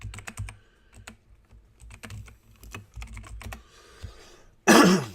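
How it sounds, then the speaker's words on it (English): Rapid bursts of computer keyboard typing, close and crisp, with uneven pauses between keystroke runs, followed by a cough and a loud throat clear at the end. "Let me just type in here."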